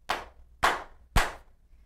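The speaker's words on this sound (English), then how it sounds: "I'm going to give you a rhythm by clapping or stamping my feet" Three sharp hand claps, evenly spaced about half a second apart, played as a simple rhythm for children to echo back, close and clear with no talking.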